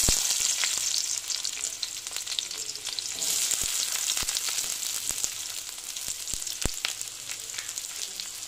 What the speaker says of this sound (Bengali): এখন আমি পেঁয়াজ দিয়ে দিচ্ছি।